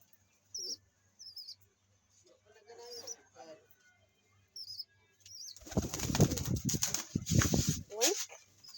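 White Jansen pigeons in a loft, a few soft coos and chirps at first, then a loud close burst of wing flapping and fluttering as birds take off, with people talking in the background.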